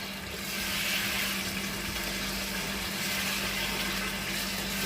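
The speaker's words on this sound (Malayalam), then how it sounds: "ഇതിലെ ആ വെള്ളം ആദ്യം നമുക്ക് ഒഴിച്ചു കൊടുക്കാം" Cooking water from chicken is poured into biryani gravy in a steady, rushing stream that stays close and even for several seconds, with no talking.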